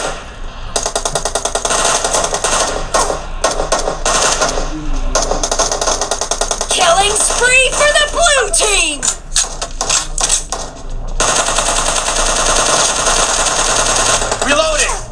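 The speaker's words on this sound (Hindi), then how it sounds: "ये ट्रिगर्स के साथ फायरिंग हो रही है" Rapid automatic gunfire from PUBG played on an ASUS ROG 5 phone, loud, dense bursts of shots layered over constant game sound, with a voice talking over parts of it.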